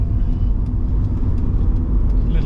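A Rover 200 BRM car driving on the road, a steady low engine rumble with road noise from inside the cabin, continuous and fairly loud with no talk.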